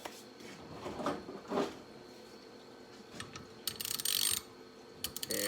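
Cranking a double flaring tool on a brake line, close mechanical creaks and ratcheting clicks followed by a burst of sharp metallic rattling, with no talk.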